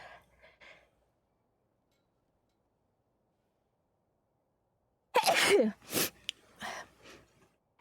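After a few faint breaths and a long silence, a single sharp sneeze bursts out close by, followed by short snuffling breaths.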